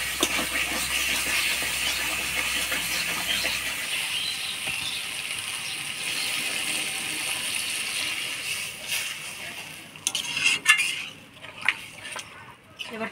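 Water poured into a hot pot of spiced chicken gizzard curry with potatoes raises a steady, close sizzling hiss that runs for several seconds, then breaks into sharper sputters and pops near the end.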